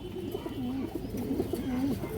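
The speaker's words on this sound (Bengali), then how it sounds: "মাদি কবুতর আছে একবারে পুতুল চুইঠাল সিলভার বাঘা কবুতর" A silver female Bagha pigeon coos repeatedly up close, each soft throaty rolling call rising and falling in a steady rhythm over a quiet background.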